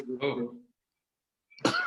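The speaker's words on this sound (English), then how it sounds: "when you cough, you gotta do it with your elbow like this" Two short throaty coughs separated by a moment of silence, close and fairly loud.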